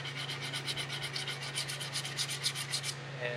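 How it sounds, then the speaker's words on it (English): Hand sanding of a small wooden cutting board: a steady rhythmic rasping of sandpaper on wood, repeating strokes close and continuous for about three seconds before stopping, with a low steady hum underneath. "it's just hand sanding, not super exciting"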